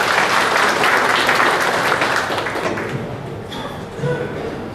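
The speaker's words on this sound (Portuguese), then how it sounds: "uma salva de palmas ao presidente da Covato" Loud audience applause at a national congress of retirees in Maceió, dense clapping from a big hall that slowly fades over several seconds, with a few voices emerging near the end.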